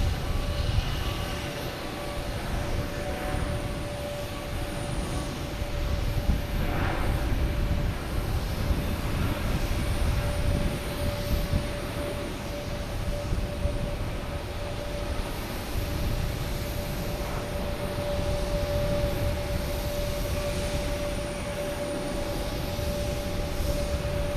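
Etihad airliner taking off from runway 4 Right at Boston Logan Airport, a steady broad engine roar that holds loud and even throughout, with a faint sustained tone above it and no voices.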